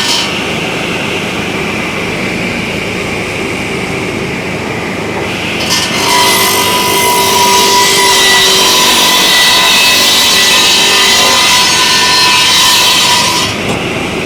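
A radial arm saw cuts through a second piece of wood in a workshop, running steadily before a louder, harsh sawing stretch through the middle and latter half, alone with no talk.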